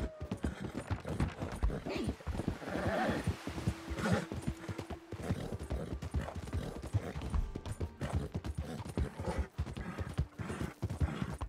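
Steady hoof clip-clop of a horse walking at an even pace in Red Dead Redemption 2 Online, with game ambient sounds and faint mechanical tones behind it.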